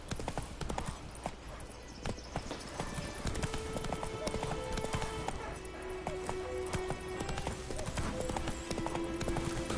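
Roach, Geralt's horse in The Witcher 3 video game, gallops with fast, loud, continuous hoofbeats. Game music and ambience play underneath.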